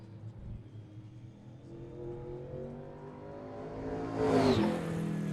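A pro stock race car runs a time trial lap at Seekonk Speedway, its engine droning steadily from a distance, then rising to a loud roaring pass with a pitch drop near the end, heard alone without voices.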